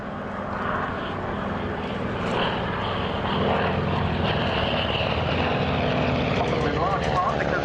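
At the Duxford VE air show, a vintage propeller aircraft flies past with a steady rumbling engine drone that swells and holds for several seconds, and a voice talks over it throughout.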